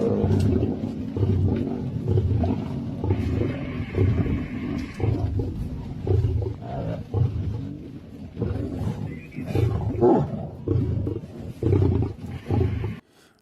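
A lion with cubs roars in a wildlife clip played back, giving deep, rumbling roars that swell and fade in a continuous heavy series for over ten seconds with no talk.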